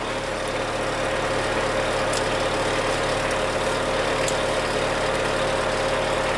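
A loud rally-prepared Acura RSX idles steadily up close, its engine holding a constant, throbbing drone with no breaks and no voices over it.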